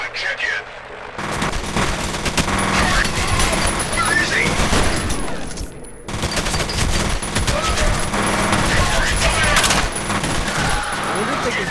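Heavy gunfire in the first-person shooter F.E.A.R., dense rapid bursts and overlapping shots sustained across the clip with a brief pause midway, loud and close, with someone talking over it.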